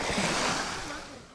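Ocean waves surging on a shore in a seaside village, a steady broad wash of surf that swells early and slowly ebbs, with wind noise mixed in.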